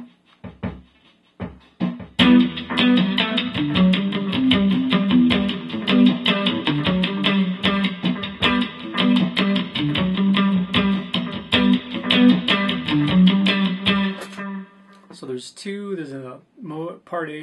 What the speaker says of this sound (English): There's another alternate guitar part in the solo that's played by guitar 2, and it's a muted rhythmic thing.